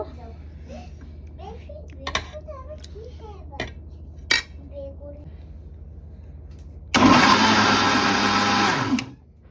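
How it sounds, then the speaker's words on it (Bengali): Blender whirring loudly through cooked tomatoes for a hot tomato sauce, a steady roar of about two seconds that follows kitchen clatter and someone talking. "এখন হচ্ছে আমি এটা ব্লান্ড করে নেব"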